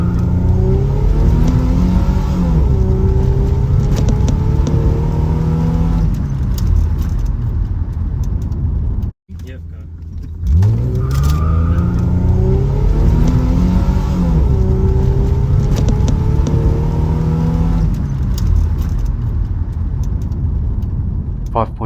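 A supercharged V6 Holden Commodore VN/VP with an L67 engine accelerates hard from 0 to 100 km/h, loud, close engine roaring through rising gear pulls with a brief shift break, voices faintly underneath.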